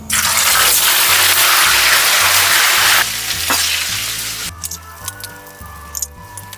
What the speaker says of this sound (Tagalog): Etong sunod na priprituhin natin ay gawin nating medyo tostado.